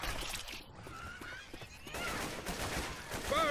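Gunfire with incendiary ammo in Left 4 Dead 2 comes through as rapid, fairly quiet bursts of shots layered with crackling game effects and a brief faint chime, with no clear talking.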